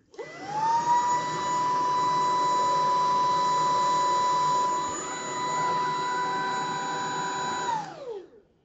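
A Dyson V15 cordless vacuum cleaner running in Eco mode gives a steady, close, high-pitched motor whine. It spins up at the start, holds level with a slight dip midway, then winds down at the end, with no talking.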